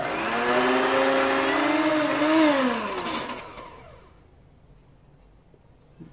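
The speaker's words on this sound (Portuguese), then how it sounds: "Tô usando a batedeira para agilizar um pouquinho mais." An electric hand mixer beats butter and sugar for a cake batter with a loud, steady whirring motor that shifts pitch briefly under load, then winds down and stops, leaving a quiet room.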